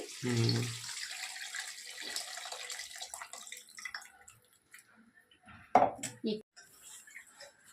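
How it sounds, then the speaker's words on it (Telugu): Tamarind juice is poured into a fish curry, giving a soft splashing trickle with a few clinks of a pot and a ladle; a voice speaks briefly. "చింతపండు పులుసు పోసుకుంటున్నాము"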